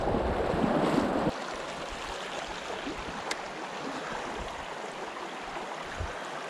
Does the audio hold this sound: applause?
no